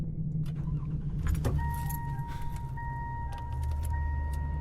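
A car's seatbelt warning chime pings in short repeated tones over a low road rumble and light jangling, placed at the opening of a pop song.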